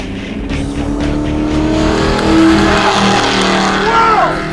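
A Dodge Challenger with vanishing paint and badly failing brakes runs a timed lap, its engine roaring loud and steady, rising as it passes with brief tire squeal near the end, while commentators talk faintly underneath.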